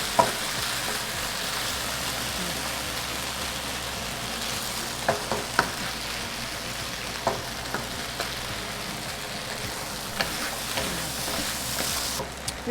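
Food frying in a pan on a just-switched-off stove gives a soft continuous sizzle, broken by repeated spoon scrapes and taps as it is stirred, with no talk.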